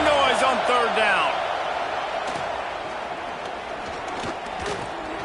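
A college football stadium crowd roars loudly on third down, a dense sustained wash of cheering and shouting that starts strong and eases slightly, with a few sharp whistles or calls piercing through near the start.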